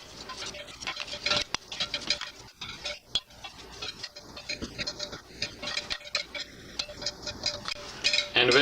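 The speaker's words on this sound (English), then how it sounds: "And then you're going to want to begin stirring it," Melting chocolate being stirred in a pot, a soft irregular scraping and tapping of a utensil against the pan, fairly quiet and close, continuing with no talk.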